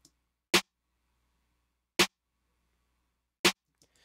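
Three sharp, punchy snare drum hits processed with a Slate Digital Transient Shaper, evenly spaced about a second and a half apart, each short with little sustain, separated by near silence.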